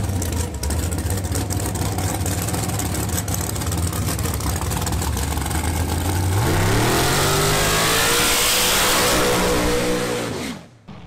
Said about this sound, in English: he knows how to do a burnout in the car